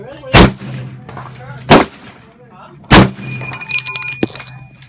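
An M1 Garand rifle fires three sharp, loud gunshots spaced about a second apart, each cracking out with a short ringing tail, followed by metallic clinks and faint muffled voices in the background.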